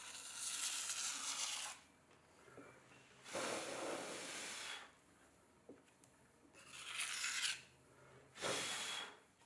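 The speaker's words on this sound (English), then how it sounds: "if it needs the curve of this rib scraped over it, this is when I'll do it" A rib scrapes the interior of a stoneware pottery bowl on the wheel in four separate strokes, each a soft, close rasping rub, with quiet gaps between.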